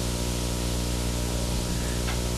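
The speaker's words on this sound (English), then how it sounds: "Keep the gun fairly far away from the neck, trigger on and off, and you'll save lacquer." A spray gun sprays lacquer onto a guitar neck with a steady, loud hiss that holds for the whole stretch, with a faint low hum underneath.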